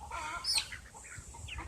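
Hens cluck in a farmyard, soft overlapping calls at middle distance over a low outdoor background, with no talking.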